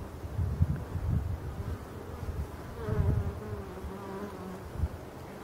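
Honeybees from a spring-caught swarm buzzing at the hive entrance as they bring in pollen and nectar, a close, fluctuating drone with several individual bees passing near.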